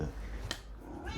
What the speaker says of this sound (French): on a un chat qui est passé par là et qui évidemment, comme tout chat, veut se faire remarquer